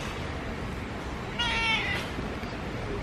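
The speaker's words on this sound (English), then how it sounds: "There's a beautiful kitty cat." A cat gives a single short meow, moderately close, over steady background noise and rustling.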